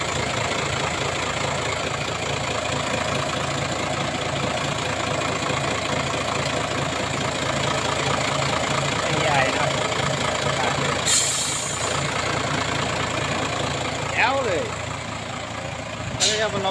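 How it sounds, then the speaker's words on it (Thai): Isuzu 210 six-wheel dump truck diesel engine idling steadily up close, with someone talking over it throughout. "เสียงเครื่องนะครับเสียงเครื่อง"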